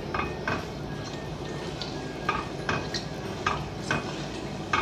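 Jamaican festival dough frying in a pot of oil with a low continuous sizzle, broken by sharp clinks and scrapes of a utensil against the pot at irregular intervals.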